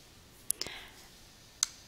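Computer mouse clicking during a slideshow tutorial: three sharp, quiet clicks, two close together and one a second later, near and isolated over faint background.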